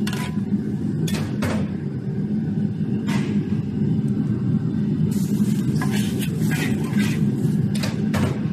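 Chili sauce for mapo tofu fries in a pan as water is poured in, giving a constant rumbling sizzle with several sharp bursts of spattering and clatter.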